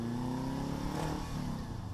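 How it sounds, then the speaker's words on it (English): A Subaru engine in a Porsche Speedster replica revs and pulls hard under acceleration, loud and continuous, with the pitch shifting as it climbs through the gears. "gobs of power and torque whenever you want it, courtesy of that Subaru engine"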